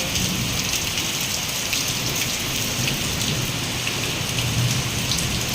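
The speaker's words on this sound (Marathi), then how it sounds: "त्यानंतर जे पाऊस सुरू झाला" Heavy rain pouring outside, a dense and steady roar of downpour with no gaps, close and loud.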